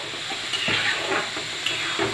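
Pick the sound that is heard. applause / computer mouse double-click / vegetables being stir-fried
vegetables being stir-fried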